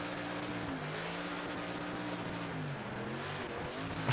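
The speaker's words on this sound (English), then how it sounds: "It sounds like we have engine damage." A damaged race car engine drones in World of Outlaws: Dirt Racing, an uneven, wavering motor hum over a constant roar of dirt and tire noise, continuous and fairly loud with no talking.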